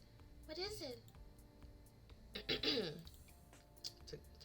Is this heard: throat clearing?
yes